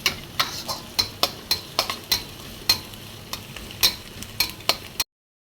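Garlic sautéing with onions in a pan for adobong takway, with a soft steady sizzle under repeated sharp clinks and scrapes of a utensil stirring at an uneven rhythm, close and fairly loud, with no talking.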